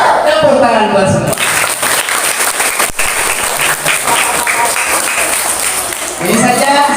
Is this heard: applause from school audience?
yes